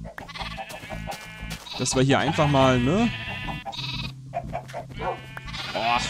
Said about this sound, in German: Oh, die Schafe hier, die sind aber auch schon ganz schön viel.